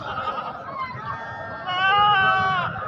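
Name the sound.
goats bleating at a livestock market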